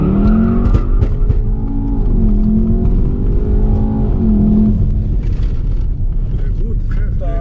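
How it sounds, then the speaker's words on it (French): A VW Golf R launches hard with launch control, its engine rising in pitch through quick gear changes with tire noise, close and loud, a voice speaking briefly over the acceleration. "Launch control, let's go."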